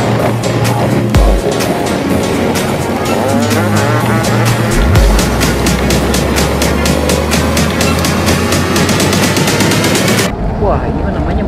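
Many jeeps driving across the Bromo sand sea, a dense, loud roar of engines and rumbling tyres with sharp rattling bursts, continuous until it cuts off near the end.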